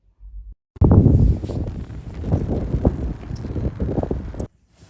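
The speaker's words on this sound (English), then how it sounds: "it's so windy out there and so cold" Strong, cold outdoor wind buffeting the microphone in a rough, rumbling gust that starts abruptly, surges and fluctuates for several seconds, then cuts off, with faint rustling and no talking.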